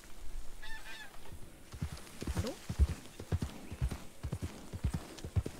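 Horse hooves clip-clop at a steady walking rhythm on the ground in the Red Dead Redemption video game, close and clear, with a brief high animal call near the start.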